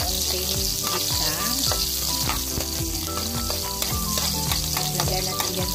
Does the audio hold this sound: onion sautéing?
yes